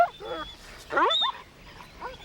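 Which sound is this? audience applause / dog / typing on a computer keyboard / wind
dog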